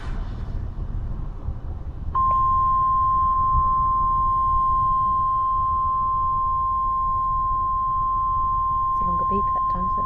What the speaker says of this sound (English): Beep that time, does that mean it's more important?